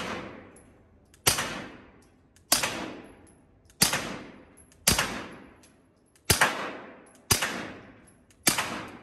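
Suppressed Canik pistol fired at a range, seven evenly spaced shots about a second or so apart, each a sharp crack with a ringing tail that fades before the next, close and clear with no talk.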